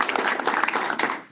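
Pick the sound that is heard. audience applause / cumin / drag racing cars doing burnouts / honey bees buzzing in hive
audience applause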